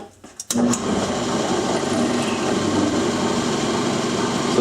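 A drill bores through aluminum, lubricated with cutting fluid, while crafting a replica Eagle 66 oil can. The steady, close whirring motor starts abruptly after a brief quiet moment and then runs continuously.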